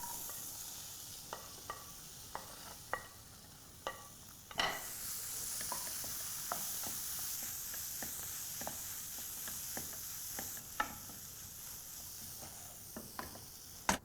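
Dal with red chili and coriander powder fries in a pan, giving a steady close sizzling hiss punctuated by regular clicks and scrapes of stirring.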